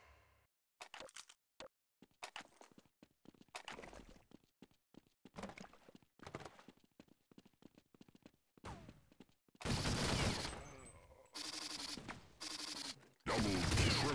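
Lightning SMG-1 submachine gun firing in Counter Strike Online, a game, starting as scattered short clicky bursts and building into loud, dense sustained volleys with brief gaps.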